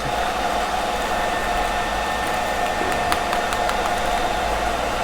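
An electric fan runs close by with a loud, steady rushing whir in a home workshop, unbroken for several seconds with only a faint clatter partway through.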